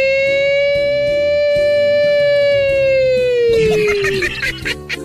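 A fire truck siren sounds as one loud, sustained wail that slides slowly downward in pitch for about four seconds, then breaks off into a jumble of voices and background noise.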